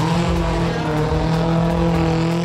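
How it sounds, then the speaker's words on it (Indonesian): Rare cars drifting in a Man on Fire stunt show at Museum Angkut, a loud, steady engine roar with sustained revving tones close by, continuous for the whole moment without voices. "Liatin banyak mobil langka pada atraksi ngepot-ngepot."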